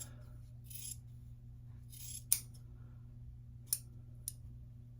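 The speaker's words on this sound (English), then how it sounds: "I usually just use my scissors" Quiet scissors snip through quilt binding fabric a few times over a steady low hum, with soft rustling between the cuts.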